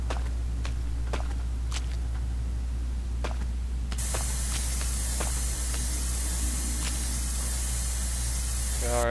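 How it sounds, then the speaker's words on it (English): In the indie video game Erie, a spray paint can hisses as a steady broadband wash over a low constant drone, with a few soft clicks early on, a jump in hiss level midway and a rattle at the end. "spray paint some more"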